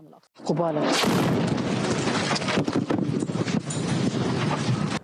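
Explosion near a Hezbollah base at the Israel–Lebanon border during a live news broadcast: a loud, sudden boom followed by a sustained roar of rumbling debris and wind-buffeted noise, with people's voices faintly under it.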